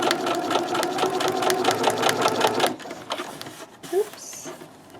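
A sewing machine stitches a scrunchie with a fast, steady mechanical chatter for about half the clip, then stops abruptly. Faint sounds of handling follow in the quiet.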